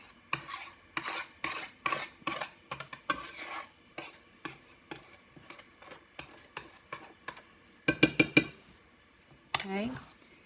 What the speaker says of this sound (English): And I'm mixing it all up. Get that good stuff off the bottom